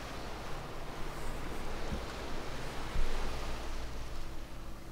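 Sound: ocean waves in the video game The Beginner's Guide

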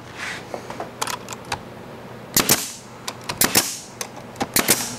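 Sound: nail gun shooting into paint drying rack wood

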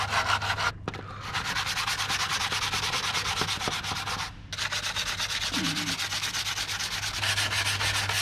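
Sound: sanding paint off a composite glider fuselage with a sanding block

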